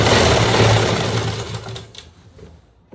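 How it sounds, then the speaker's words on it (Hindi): Sewing machine running a seam on a ladies' pant, a loud dense whirring stitch rhythm close to the mic that slows and fades out over a few seconds. "फिर इस पिन को हटाएंगे और यहाँ तक सिलाई लगाएंगे।"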